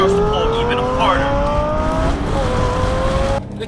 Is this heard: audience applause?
no